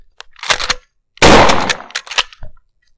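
Pump-action Military 3.0 shotgun fired on a shooting range during a drill, with several loud, sharp blasts: a cluster of quick reports, then one big close shot followed by short rapid cracks.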